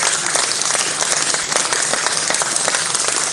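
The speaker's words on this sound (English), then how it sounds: "Round of applause." Loud, sustained applause from a crowd in a room, dense clapping with some sharp individual claps and faint crowd noise, steady throughout.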